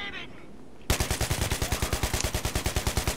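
Rapid automatic gunfire from a weapon in Battlefield 3 starts abruptly after a brief quiet moment, about twenty close, loud, evenly spaced shots in a steady burst.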